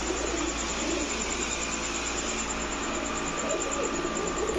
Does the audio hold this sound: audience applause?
no